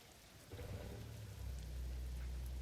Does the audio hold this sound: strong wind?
no